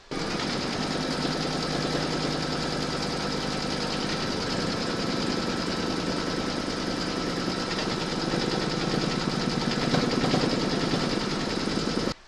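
An embroidery machine sews a round of stitching to secure the backing on a piano-design coaster held in a hoop, giving a steady, close, continuous mechanical whirr with rapid needle rhythm throughout and no talking.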